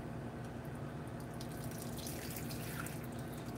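Hot water pours slowly and steadily onto a doll's head and hair, a continuous close splashing trickle that holds at an even level for the whole stretch, with no voices.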